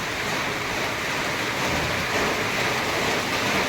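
Steady, dense rushing hiss of heavy rain pouring down on a farm near a goat house and gutter, without a break, loud and constant.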